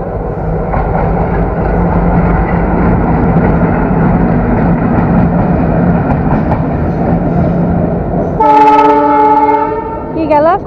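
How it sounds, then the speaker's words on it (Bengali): A train runs past on a railway track right beside a house: a steady, loud rumble of wheels and carriages, then a sharp, harmonic horn blast near the end. "দর্শক বন্ধুদের ট্রেন দেখাবো আজকে আমাদের বাসার পাশ দিয়ে এই ট্রেনের রাস্তা"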